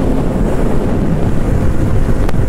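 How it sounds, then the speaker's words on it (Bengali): Strong wind buffets the microphone during a motorbike ride on a stormy afternoon, a loud, constant roaring rumble with no voices. "বেশ ভালোই জোরে হাওয়া দিচ্ছে"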